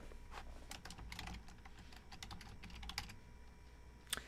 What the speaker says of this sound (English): And I'm typing on the wrong keyboard.